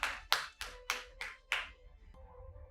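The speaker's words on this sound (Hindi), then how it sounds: "एक बार जोरदार तालियां हो जाएं." Six separate hand claps ring out in an even rhythm at a radio poetry gathering, crisp and fairly near but quiet overall, leaving only a soft low hum afterward.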